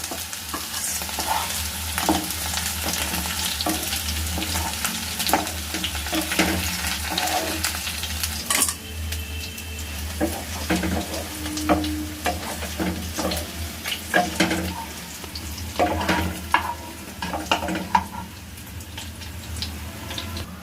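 Bitter gourd pieces frying in oil in a pan, a constant sizzle broken by repeated scraping and clacking stirs at an irregular rhythm, close and fairly loud, with no speech throughout.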